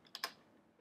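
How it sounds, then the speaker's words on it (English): Typing a web address on a computer keyboard: two quick, faint key clicks close together, then quiet. "which is what I'm gonna type in now"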